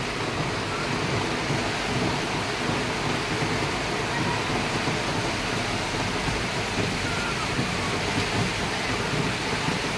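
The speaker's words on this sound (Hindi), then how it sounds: "बहुत तेज आधी के साथ बारिश है" Steady, heavy rain with strong wind roars continuously with a dense hiss and low rumble, close and loud, with no voices.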